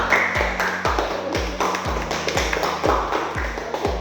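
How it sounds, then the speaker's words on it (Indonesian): A classroom group claps in a rhythmic pattern, a series of sharp, evenly spaced claps repeating about twice a second, close and clear. "berikan aplaus"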